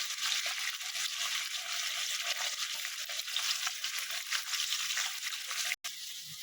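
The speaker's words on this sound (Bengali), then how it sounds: "এটা একটু লাল লাল করে ভাজা হয়ে যায়।" Potatoes fry in a pan for a vegetarian eggplant and potato dish, making a dense, even sizzle close up that runs throughout and cuts out briefly near the end.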